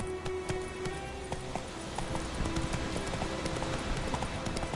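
Roach the horse galloping in The Witcher 3, rapid rhythmic hoofbeats pounding continuously and close, with a steady run that grows slightly heavier midway.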